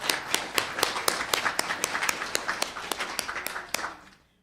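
A room full of people applauds at a town council meeting, a dense stream of clapping with sharp individual claps standing out, steady for several seconds before tapering off.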